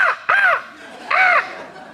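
A man imitates a crow, letting out two loud, close caws that stand alone with a brief pause between them.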